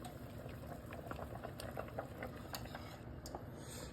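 Soup simmering in a pot after a thickened mixture has been stirred in, with soft bubbling and liquid patter at low level and no talk.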